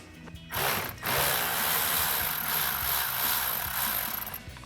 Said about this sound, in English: We're gonna go in there with a 10mm stubby socket.